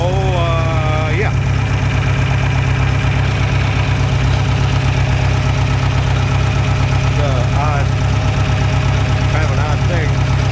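A John Deere 3020 LP tractor engine runs loud and close with a steady, throbbing low idle and faint knocking throughout, while voices come and go faintly over it.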